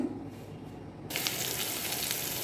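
Whole cumin tempering in a hot pan, then taro and potato pieces dropped in, setting off a sudden loud burst of sizzling that holds steady and close.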